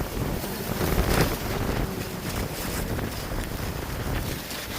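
Strong gusting wind roars across the microphone during a Canadian winter storm, a loud broadband rush that swells around the first second and keeps buffeting without pause.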